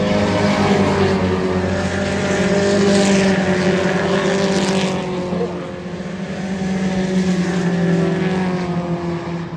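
Four-cylinder race cars racing at Wiscasset Speedway, a loud continuous engine drone with multiple cars blending together and the pitch swelling and fading as they pass.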